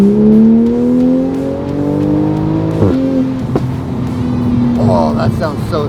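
A wide-body Toyota Supra engine drones steadily and rises in pitch as it revs, with a few brief shifts and changes in tone. People talk faintly over it.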